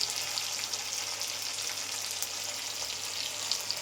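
Ginger paste and spices sizzling steadily in hot oil for a vegetarian soybean curry, a continuous close crackle and hiss with no talk.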